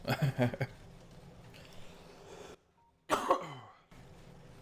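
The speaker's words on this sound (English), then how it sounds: "Sorry about my coughing." Two bouts of harsh coughing close to the microphone, separated by a moment of near silence, with no speech.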